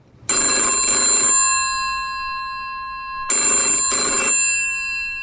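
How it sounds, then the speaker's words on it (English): A telephone rings in two loud bursts, each a rapid double trill of bright metallic bell tones with a lingering ring between, no voices over it. "Phone's ringing, dude."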